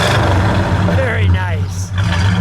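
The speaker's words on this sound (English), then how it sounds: "Give it a rev." A 1969 Plymouth Road Runner convertible with a 383 V8 revs up close by, its steady low engine rumble swelling briefly while people talk over it.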